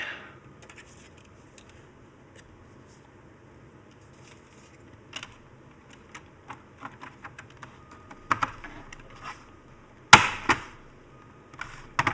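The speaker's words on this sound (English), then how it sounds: "I will put this keyboard back together slightly." A computer keyboard is reassembled on a workbench, giving sparse, close plastic clicks and taps that grow busier, with a couple of sharper snaps and clacks near the end; no one speaks.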